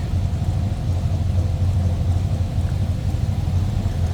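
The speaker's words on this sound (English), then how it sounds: "Nothing crazy for the exhaust, just a nice little rumble coming out of that small block" Low, steady exhaust rumble from the small block V8 of a 1967 Chevrolet C10 idling close by, a constant throbbing drone with no talk.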